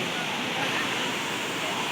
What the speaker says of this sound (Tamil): தண்ணி கொஞ்சம் தான் விழுதுங்க ரொம்ப அதிகமாக இல்லை